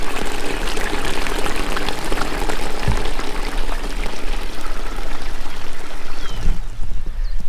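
Rainwater gushing into a storage tank, a loud continuous rushing and bubbling stream of water that stays steady for the whole clip, close up with no speech.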